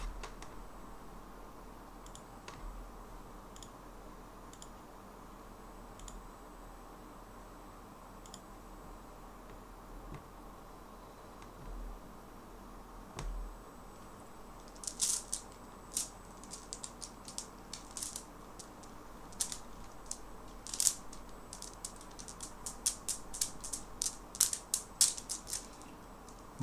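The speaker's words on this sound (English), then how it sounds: "The sound you are hearing, it's called komboloi." Komboloi worry beads of bull horn click faintly in a quiet room, sparse ticks at first, then quick irregular clusters of sharp clacks toward the end over a low steady background hum.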